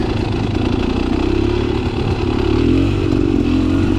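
Beta Xtrainer 300 two-stroke dirt bike engine running close by, a loud buzzing idle that swells into a brief throttle rev toward the end, with no talk over it.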